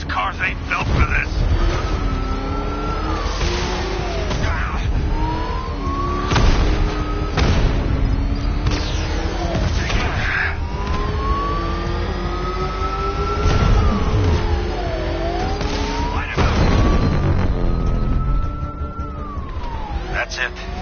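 Engines rev and roar through a car chase in Batman Arkham Knight, with pitch sweeping up and down as vehicles accelerate, sirens wailing and repeated crashes and thuds, loud and layered, with voices speaking over parts of it.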